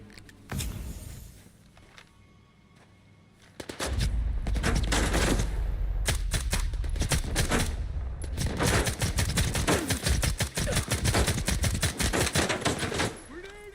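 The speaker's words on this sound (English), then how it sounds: "these guys are just taking pop shots, random pop shots" Enemy gunfire in S.T.A.L.K.E.R. 2: Heart of Chornobyl, with a few scattered shots early on, then a long stretch of loud, dense rapid bursts and single cracks over a low rumble.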